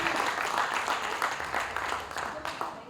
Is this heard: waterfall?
no